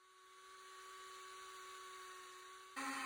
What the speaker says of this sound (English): You can quickly carve right through a piece of wood just with a few overlapping strokes.